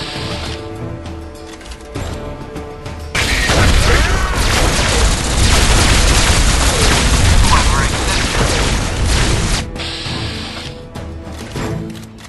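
A battle in the video game Fallout 3 erupts in a loud, sustained barrage of gunfire and booming blasts for several seconds, then cuts back to quieter ambient game sound.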